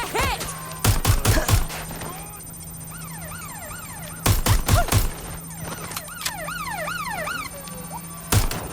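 Bursts of automatic gunfire crack out in Watch Dogs: Legion, in three loud rapid volleys, with wailing police sirens rising and falling in the gaps between them.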